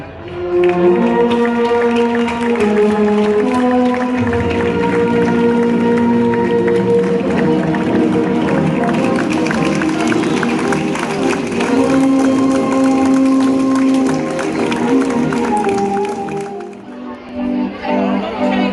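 Crowd applause at a falla proclamation, strong clapping and cheering over loud music and a voice on the loudspeaker, sustained for most of the time before dropping off near the end.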